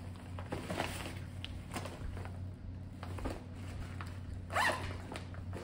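Zipper on the top pocket of a Patagonia Black Hole 25L backpack, pulled open and shut in several quick, close rasping runs with small rustles and handling noises between them.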